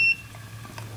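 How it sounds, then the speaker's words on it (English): A single short, high electronic key-press beep from a HAL-HPC300 handheld particle counter at the very start, followed by a low steady hum. "we have the option of beeping every time we press a key"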